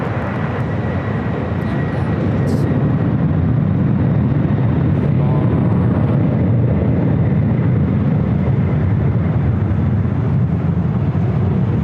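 A FedEx jet taking off at LAX makes a sustained, heavy roar that stays loud and broadband throughout, a steady distant thunder of jet engines without pauses.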